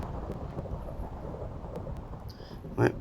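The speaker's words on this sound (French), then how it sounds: "Tiens, un éclair." Thunder after a lightning flash in a post-apocalyptic island survival game, a brief sharp crack near the end over a steady low rumble of rain and wind.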